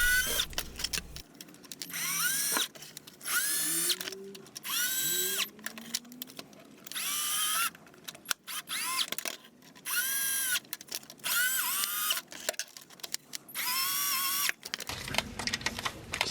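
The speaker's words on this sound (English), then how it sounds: "a little 10 millimeter on a power drill" Power drill fitted with a 10 mm socket tightening transmission pan bolts on a GM 3.5L Impala, in repeated short whirring bursts that rise in pitch and stop, close up.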